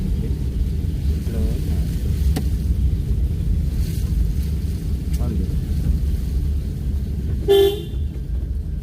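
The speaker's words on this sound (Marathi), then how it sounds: "अशा ठिकाणी जरा हॉर्न द्यायचा." A short car horn toot sounds near the end, standing out over steady engine and road noise from a moving vehicle.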